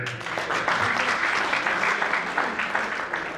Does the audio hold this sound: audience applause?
yes